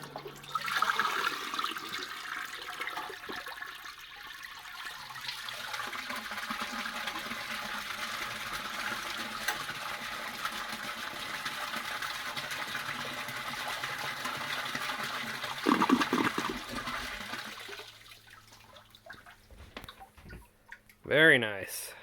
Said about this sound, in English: We'll give this a flush.